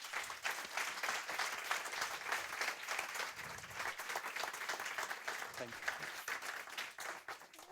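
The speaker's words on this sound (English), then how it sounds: "give them a warm hand." A room full of people applauds three panelists after a Q&A on future creative mediums, steady mid-level clapping that runs without a break for several seconds.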